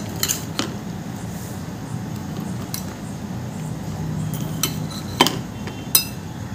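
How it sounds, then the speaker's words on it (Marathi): Chickpea salad being stirred together with yogurt in a bowl, with soft scraping and wet squishing under a steady hum and a few sharp clinks of a spoon against the bowl. "हे मी छान मिक्स करून घेते."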